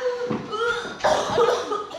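A few rough coughs close by, loud and mixed with faint laughter-like sounds, over a muffled busy background.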